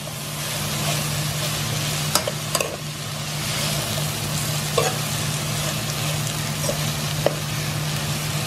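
Bean sprouts, hotdog, string beans and Chinese cabbage stir-fry in a pan with a constant loud sizzle, punctuated by a few sharp clicks of a utensil scraping and tossing the food.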